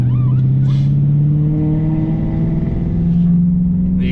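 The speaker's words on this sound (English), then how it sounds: "You can hear that diff just working back there." A BMW E39 540i with a worn, struggling rear differential drones under load as the V8 revs, a loud sustained engine tone rising in pitch with faint whining and clunking from the rear.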